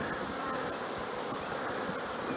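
Honey bees at an open hive give a steady, dense buzzing drone, close and continuous, with no voices.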